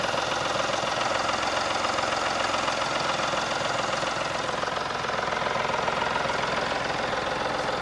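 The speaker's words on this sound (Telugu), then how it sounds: "చిన్న ఇంజిన్ సార్, ఇంజిన్ కూడా బాగుంది" A 2017 Mahindra KUV100 K8 diesel engine idles close by, giving a steady, even rumble with a faint knocking texture throughout and no talking.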